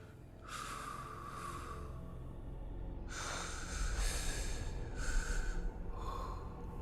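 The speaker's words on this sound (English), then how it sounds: "Breathing." Heavy, rasping breaths and gasps in a Dead by Daylight trailer, several long drawn inhales and exhales spaced apart, close and airy over a low rumbling backdrop.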